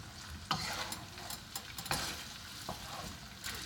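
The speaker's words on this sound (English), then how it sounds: "do a nice little stir up" Ground turkey and vegetables sizzle and fry in a hot wok while being stirred, with soft scraping and clicking of the utensil against the pan over a steady quiet hiss.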